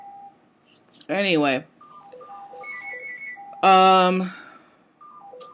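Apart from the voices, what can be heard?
telephone ringing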